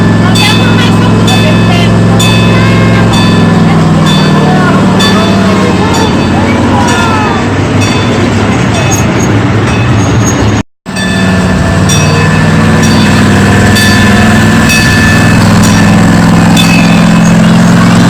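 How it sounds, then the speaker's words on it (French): An old tram rolls along its rails with a loud, steady rumble, tonal wheel and motor whine and metallic rattles. Voices chatter throughout, and the sound briefly cuts out near the end. "Rendu à bord d'un tramway, un vieux tramway."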